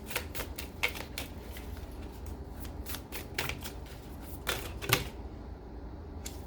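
Tarot cards being shuffled and drawn from a deck, close and crisp, with a string of quick riffling flicks and snaps and a few sharper taps, with no talking.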